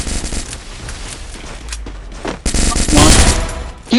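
Rapid automatic gunfire bursts in the Free Fire battle royale game played on an iPhone 17, loud and close, with a sharp fusillade of shots near the end and a voice speaking briefly.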